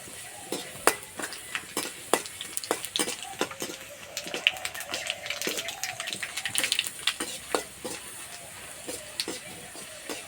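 Dry red chillies and nigella seeds crackle and pop in hot oil, with frequent sharp ticks and faint clinks of a utensil against the pan throughout.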